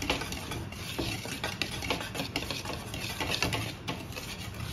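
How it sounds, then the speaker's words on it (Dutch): Pink batter for Surinamese fried banana is mixed in a bowl, giving a soft, continuous wet stirring and patter of close, fairly quiet rubbing textures. "Dan ga ik hem goed mengen."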